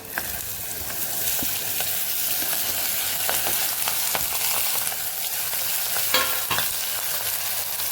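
Steady crackling sizzle of green cowpeas frying in hot oil with asafoetida, with a few sharper pops and stirring scrapes along the way, close and continuous.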